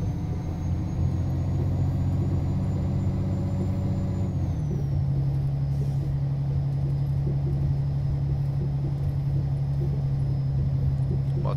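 A truck in Euro Truck Simulator 2 multiplayer climbs a hill with a steady, low engine drone. The pitch drops at a gear change partway through, over a constant rumble.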